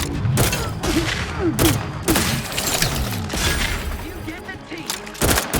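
Gunfire from a combat encounter in the video game The Outer Worlds 2, loud bursts of shots and booms with mechanical clanks, mixed with overlapping game voices and busy battle noise throughout.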